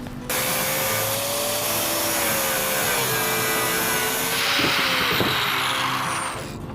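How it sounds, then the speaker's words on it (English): A grinding wheel cutting into an aluminum engine part during an LS swap, giving a loud, steady abrasive whine with a slowly wavering pitch, close up and continuous, with no speech over it. "we need to grind the aluminum part of it"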